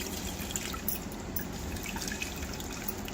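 Strained beetroot juice pours into a tumbler as a steady liquid trickle with small drips, close and fairly quiet, with no voices.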